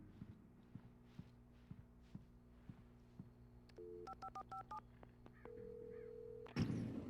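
A telephone in Alan Wake being dialed: a string of short, evenly spaced keypad tones after a few quiet footsteps, then a steady tone and a sharp clatter at the end.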